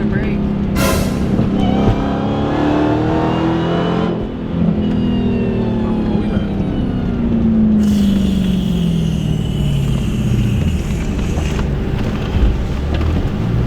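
A supercharged car engine revs loudly, its pitch sweeping up and down over steady wind buffeting, with voices talking throughout.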